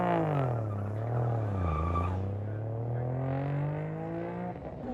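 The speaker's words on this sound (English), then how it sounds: "Jeff Ludgate's legendary cars going up now." A modified race car at a built-not-bought race event accelerates hard, its loud engine note rising, dipping and climbing again in a steady, close roar with no voices.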